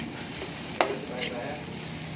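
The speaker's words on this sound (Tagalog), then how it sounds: "prito pa tayo ng tuyo" A continuous sizzle of dried fish frying in a pan, with a couple of brief scraping stirs cutting through the steady hiss.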